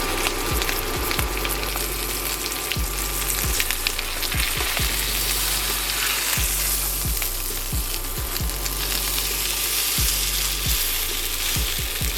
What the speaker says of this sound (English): we're gonna let this steak cook for 2 minutes on one side, 2 minutes on the other side